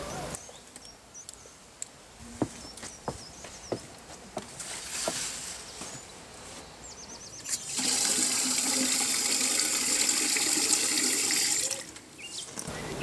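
Water splashes onto a garden plant, starting with scattered drips and small splashes, then becoming a loud, steady gushing pour for several seconds before it stops abruptly.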